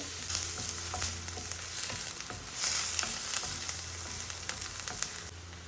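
Onions frying in a pan for chicken breast béchamel pasta, a steady close sizzle with crackling pops and occasional stirring, continuous throughout with no voices.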